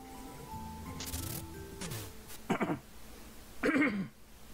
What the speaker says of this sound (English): I tried coughing away from the mic and indirectly just coughed right into it